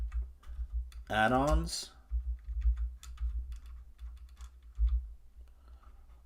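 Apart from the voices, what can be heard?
typing on a computer keyboard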